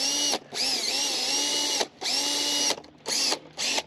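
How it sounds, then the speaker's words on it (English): A Makita 18-volt cordless drill spinning a scrubber brush whirs in several bursts, pausing briefly between runs, steady high-pitched motor whine close by. "This is a Makita 18-volt drill."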